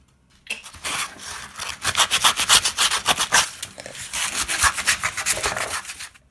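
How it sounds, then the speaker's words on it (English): Sandpaper rubbing a wooden bowl by hand, with quick repeated back-and-forth scratchy strokes, close and steady, starting after a short silence and stopping at the end. "Now I'm going to use the sandpaper to"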